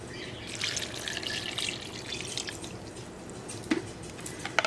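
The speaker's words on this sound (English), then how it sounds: "Add a little bit more water" Water added by hand to paper pulp, a soft trickle and scattered drips, fairly quiet and close, with a couple of sharper splashes toward the end.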